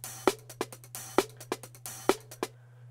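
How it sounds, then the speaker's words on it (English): Chopped drum break sample played back on an Akai Force, crisp punchy kick and snare hits in a syncopated looping pattern with short gaps, clean and dry, stopping abruptly near the end with a faint tone left. "I've got a chopped up break just sitting on this clip here, which sounds like this."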